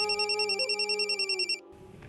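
A telephone rings in a home, a warbling electronic trill repeating in quick pulses for about a second and a half, then cutting off into quiet room noise.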